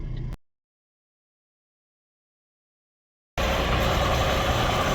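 A truck engine idles while its turbos cool down, a loud, steady low rumble that starts abruptly after a brief burst and a long stretch of silence.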